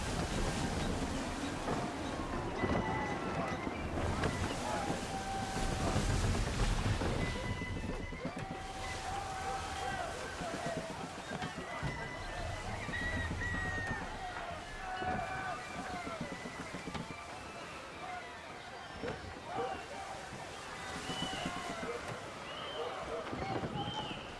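A rogue wind and waves at sea in Assassin's Creed III: a loud, continuous rush of wind and churning water with creaks and thuds from the ship, under intermittent talk.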